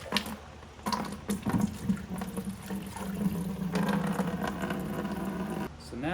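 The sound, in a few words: rinsing car parts with hot running water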